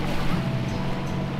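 Steady low rumble of a boat engine over water, continuous and fairly loud throughout, with no voices.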